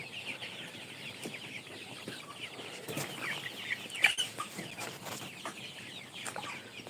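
Colour broiler chickens cluck softly in a farm shed, a quiet continuous murmur of calls with an occasional brief wing flap and no talking.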